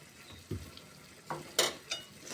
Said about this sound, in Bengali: মশলাটা আমি সুন্দর করে কষিয়ে নেব, মশলায় তেল ছেড়ে দেওয়ার আগ পর্যন্ত